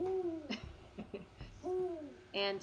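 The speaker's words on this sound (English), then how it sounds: "you hear an owl hooting off in the distance." A few low, hollow owl hoots sound faint and distant against quiet night ambience, with a brief spoken word slipping in between.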